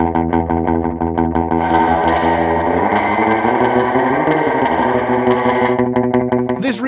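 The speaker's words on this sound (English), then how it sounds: "specifically the Fender 63 spring reverb unit in plugin form" Guitar notes played through a tube-driven Fender '63 spring reverb tank emulation plugin, sustained, shimmering tones with a thick, wet, drippy tail and slight grit, plucked attacks recurring in a steady pattern, loud and up close.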